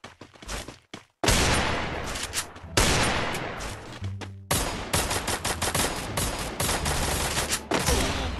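Rapid bursts of Free Fire gunfire crack out in loud volleys, with sustained automatic fire and short pauses between strings of shots.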